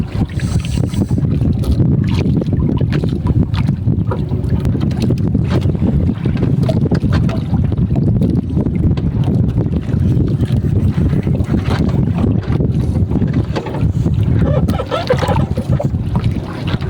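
A fishing boat's engine drones steadily and loudly throughout, a low rumbling hum mixed with wind buffeting the microphone.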